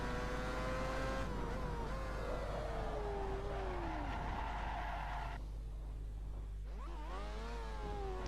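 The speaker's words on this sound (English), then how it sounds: "let's see what happens if I try to drive these overheated tires at racing speeds" A race car in the racing game Project CARS, driven at racing speed on overheated, melted rear tires with no grip. The engine whines and shifts up and down while the tires squeal and skid steadily, loud and close throughout, with no talking.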